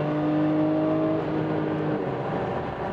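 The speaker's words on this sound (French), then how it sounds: "Ça fait toujours un beau bruit de GT3" A Porsche 996 GT3 flat-six engine fitted with its original mufflers gives a steady, muffled, smooth hum at a held speed, a little quieter toward the end, with no talk.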